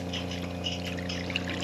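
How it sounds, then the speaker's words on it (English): Brine water pouring and trickling out of a sailboat's watermaker discharge after the high-pressure pump is switched off, a steady near splash with a low mechanical hum underneath. "let's see how funky this brine water is that comes out"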